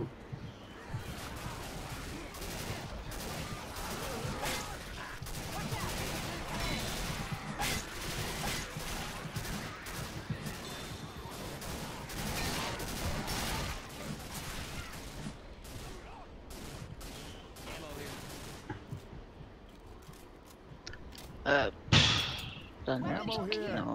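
Rapid tactical rifle fire from the game Left 4 Dead rattles in near-continuous bursts throughout, loud and dense, with players talking over it and a sharp crash near the end.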